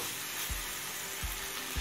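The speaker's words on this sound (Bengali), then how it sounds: "এবার ভেজে রাখা আলুটা দিয়ে দিলাম।" Fried potatoes drop into a pan of beetroot chicken curry, giving three soft thuds over a steady low sizzle of frying.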